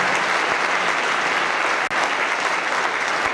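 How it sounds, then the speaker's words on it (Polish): Steady, dense audience applause for former Stal Stalowa Wola football players at a 2014 team presentation, loud and continuous throughout with no voices over it. "Brawa dla nich."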